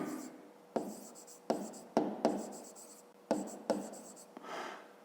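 A pen writes an equation on paper in a run of short, distinct scratchy strokes with small pauses between them, close up and quiet, with no talk.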